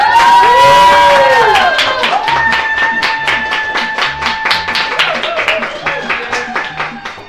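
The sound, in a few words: live studio audience applauding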